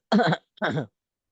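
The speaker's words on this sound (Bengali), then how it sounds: "এভাবে কাশি দিলেন বিনা ওজরে" A person demonstrating a deliberate throat-clearing cough, two short gruff bursts close up separated by a brief pause, then silence.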